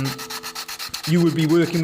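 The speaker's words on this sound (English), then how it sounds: "whenever you're doing your sanding, you're always sanding in the direction of the grain" Hand sanding of shaped wood with strokes along the grain: a rhythmic, close rasping rub that repeats in short strokes, then settles into a longer, steadier scrape.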